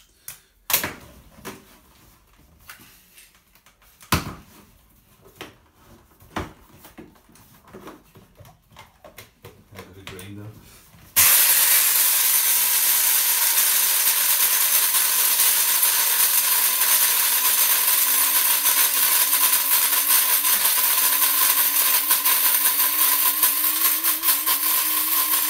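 Sharp clicks and taps as a small sample of soya beans is loaded into a grinder, then the grinder starts abruptly and runs with a steady, loud, high whirring drone until the end.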